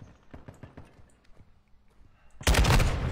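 Shotgun fire in Call of Duty, a run of sharp rapid reports followed by a sudden loud, dense blast of gunfire filling the end.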